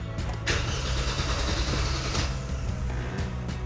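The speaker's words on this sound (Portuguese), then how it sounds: "o motor girou, mas não pegou" A Hyundai Creta bought at auction cranks on a new battery but fails to start, its starter churning steadily and loudly for several seconds without the engine catching.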